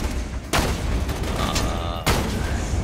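Two loud, sharp gunshot blasts in Borderlands 2, about one and a half seconds apart, each followed by a rumbling tail over ongoing battle noise.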